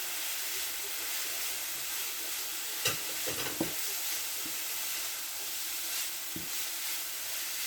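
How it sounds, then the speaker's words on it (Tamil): Carrots for carrot halwa are sautéed in a pan, giving a soft continuous sizzle and hiss with a few light stirring scrapes and clinks. No one speaks. "இது நல்லா வதக்கலாம் ஃப்ரெண்ட்ஸ்"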